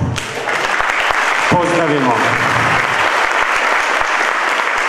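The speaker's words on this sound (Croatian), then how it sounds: "Velikim aplauzom." Sustained applause from an audience welcoming a guest at a Srebrenica genocide remembrance event, steady and loud throughout, with a voice speaking over it partway through.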